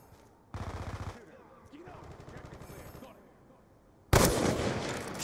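Rapid automatic gunfire in a first-person shooter video game, with bursts of dense, loud shots: one early burst, quieter chatter of fire in the middle and a loud sustained volley at the end, with no talk over it.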